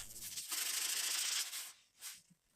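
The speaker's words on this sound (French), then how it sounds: "Le ponçage a bien enlevé la finition sur le bord courbé" Sandpaper rubs across the curved edge of a wooden cocktail bar, stripping the old finish in one long, steady scraping pass, then a shorter stroke after a brief pause.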